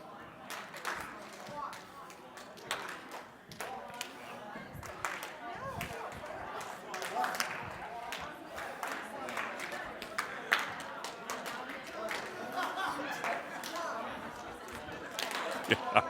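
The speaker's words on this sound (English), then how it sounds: "1, 2 is a clap, 3 is a stomp." A group performs a rhythm exercise in a conference session, clapping and stomping in a repeating pattern. The scattered, uneven claps and thuds sound busy, with voices talking throughout.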